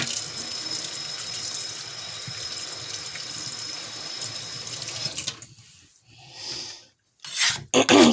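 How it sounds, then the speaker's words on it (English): Tap water runs steadily into a kitchen sink as food is rinsed for vegan Puerto Rican fried dumplings, a continuous close splash that stops near the end, followed by a few short bursts of running water. "I'm going to rinse this off real quick."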